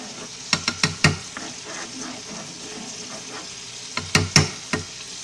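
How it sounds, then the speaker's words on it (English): A spoon stirs stove top meatloaf in a pan over a soft, steady sizzle, with two clusters of sharp utensil knocks and scrapes against the pan, close by. "Let's stir it up a little."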